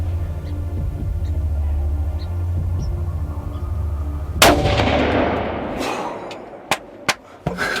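A hunting rifle fires at a buck during deer season, a sharp loud crack at mid-clip that rolls off into a fading echo, after a low steady hum, with a few smaller clicks and knocks following.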